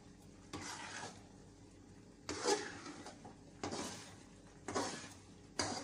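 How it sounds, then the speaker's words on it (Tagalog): A thick mixture of coconut milk and sticky rice being stirred in a pan for Bicol-style biko with jackfruit, giving five separate scraping, sizzling strokes with soft bubbling between them. "haluin-haluin lang po natin yung ating gata para hindi masunog"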